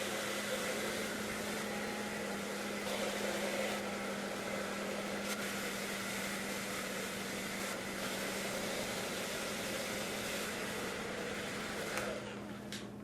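A heat gun blows with a steady whirring hum, heating protective film onto a carbon motorcycle frame; the tone stays even and continuous, close by, then shifts slightly near the end.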